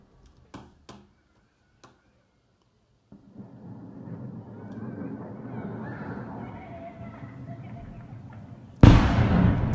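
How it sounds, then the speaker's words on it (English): Explosions in Berdyansk: a few sharp, distant bangs ring out over quiet, then a rumbling wash of noise builds before a sudden loud blast near the end. "Berdyansk explosions."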